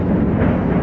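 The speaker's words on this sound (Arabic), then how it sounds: "انفجارات رهيبة جدا جدا" A loud, low rumbling roar from exploding ammunition depots south of Homs, Syria, a dense continuous blast rumble heard in one brief burst without speech.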